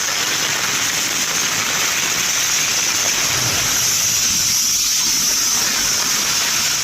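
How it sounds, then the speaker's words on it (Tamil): Heavy rain pours down over Pudukkottai and Ponnamaravathi, a dense, steady roaring hiss with no breaks, loud and close throughout. "புதுக்கோட்டை, பொன்னமராவதி மற்றும் அதன் சுற்றுவட்டார பகுதியில் 1 மணி நேரத்திற்கு மேலாக கனமழை பொழிந்தது"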